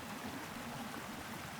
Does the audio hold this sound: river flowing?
yes